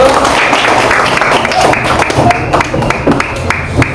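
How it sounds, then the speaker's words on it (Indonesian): Applause in a classroom fills the space, a dense continuous patter of many hands clapping at steady volume, with a few voices mixed in. "Tepuk tangan dulu."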